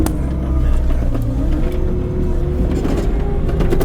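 A broken excavator's engine runs steadily as the machine drives on greenhouse foundation work, a loud, continuous low rumble with a faintly rising tone, close by and with no talk over it.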